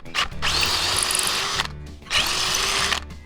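Power drill boring into an aluminum part for a Chevy C10 truck, two loud sustained bursts of whining drilling separated by a brief pause, close up with no talking.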